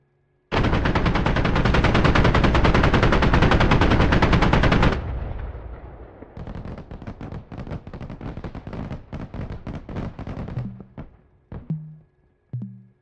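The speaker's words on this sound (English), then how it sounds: "I finally got my cannon to work, so I'm happy." Aircraft nose cannon in the DCS flight simulator game fires a long continuous roaring burst, then a series of rapid, sharp, loud shots tapering off, followed by a few short electronic tones.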